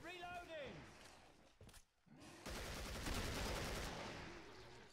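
Guns fire at zombies in Killing Floor in dense, rapid volleys, with a brief lull before a sustained burst of continuous gunfire. A voice talks over the shooting.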